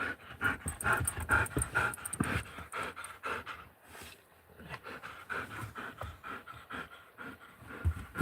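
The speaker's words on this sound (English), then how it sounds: "You see the new puppy?" A new puppy pants close by in quick, rhythmic breaths, with a few brief squeaky whimpers in between and a soft background hum.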